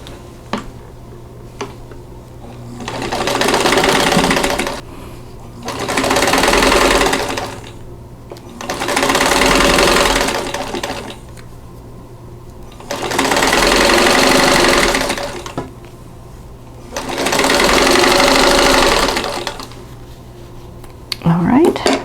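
A sewing machine stitches a quilt block in five separate runs of about two seconds each, a close, loud whirring hum broken by quiet pauses between bursts.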